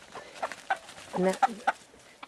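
A small bantam cockerel and hens cluck close by in a farmyard, with short scattered clucks and calls in quick succession, a voice speaking over them.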